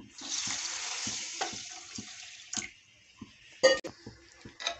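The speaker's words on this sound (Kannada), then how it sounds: "ಅದರಷ್ಟೇ ನೀರು ಹಾಕ್ತಾ ಇದ್ದೀನಿ." Water is poured into sugar in a pan to make syrup for rasgulla, a steady splashing rush for a couple of seconds, followed by a few soft clinks and knocks of a utensil against the pan.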